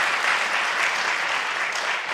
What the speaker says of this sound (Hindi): जरा जोरदार ताली बजाइए आप अपनी प्रतिभा के लिए